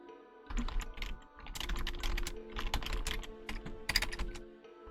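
Someone types steadily on a computer keyboard, close by, with quick irregular key clicks over a low background hum, briefly pausing near the start and continuing to the end without speech.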